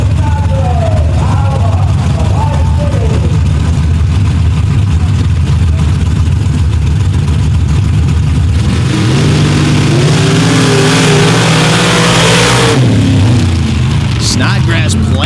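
Big block Chevrolet and an S10 drag racing side by side at the Paducah Super Stock event, loud engine roar building into a harsh full-throttle launch and run, with an announcer talking throughout.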